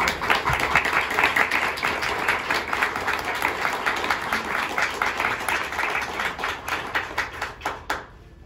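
A crowd applauds steadily with dense, continuous clapping that thins into a few scattered claps before stopping.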